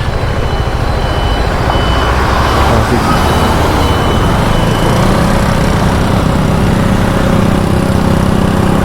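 Busy road traffic passing close by, a loud continuous rumble of engines and tyres with an intermittent beeping riding on top.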